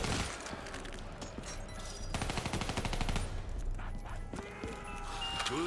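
Assault rifle gunfire in the video game Black Ops, Revelations map, crackling in dense repeated bursts over a busy game soundscape with other effects, staying loud throughout.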